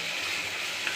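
Onions for a prawn gravy sauté in a pan with a loud, even, close sizzle that holds steady for a single second, with no voices.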